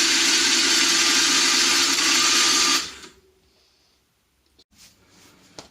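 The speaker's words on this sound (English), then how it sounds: "I just want to demonstrate how the starter motor turns over the engine" A motorcycle engine spun over by its electric starter motor with the engine switched off, a steady loud whirring drone lasting under three seconds before cutting off abruptly, followed by near silence and a few faint clicks.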